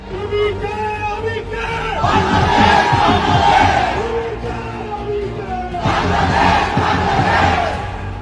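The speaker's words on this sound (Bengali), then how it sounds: "পাকিস্তানের করাচিতে বিপ্লবী শিক্ষার্থীদের কণ্ঠে স্লোগান উঠেছে" Students chant slogans in unison at a street protest in Karachi, a loud rhythmic crowd roar swelling in two waves of massed voices, close and energetic, with shouting and babble between the chanted lines.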